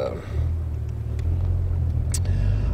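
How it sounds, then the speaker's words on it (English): Steady road traffic rumbles close by, a continuous low vehicle drone with passing engine noise and a brief sharp sound near the end, while people talk faintly over it. "I don't know what's going on with the traffic right now"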